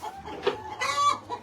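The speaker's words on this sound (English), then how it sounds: "We're looking for Rooster Earl." A rooster gives a few short, close clucks and throaty calls in quick succession, loud against faint background noise.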